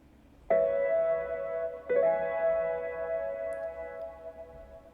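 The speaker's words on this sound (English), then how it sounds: "that's kind of my go-to for a nice lo-fi piano" Two soft, mellow layered lo-fi piano chords ring out one after another and sustain, warm and slightly muffled, over a faint background hiss.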